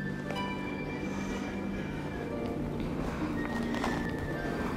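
A horse neighs and its hooves clip-clop steadily at close range, over a busy outdoor background with some faint voices.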